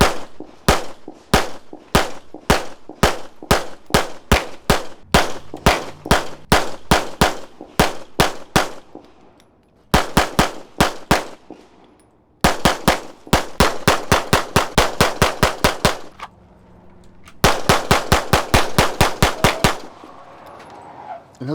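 Gunshots from a Laugo Arms Alien pistol at a shooting range, sharp loud reports fired in rapid strings with short pauses between magazines, close and dominant.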